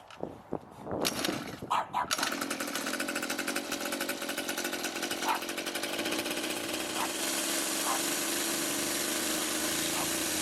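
A small 2-stroke pocket bike engine catches after a few sputtering pulls, then runs loud and close with a rapid buzzing idle and occasional revs.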